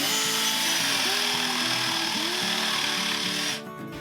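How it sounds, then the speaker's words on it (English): A battery-powered electric drill whines steadily at high speed, its pitch wavering as it bores hinge holes, then cuts off abruptly near the end. "I don't think this is going to work with an electric drill"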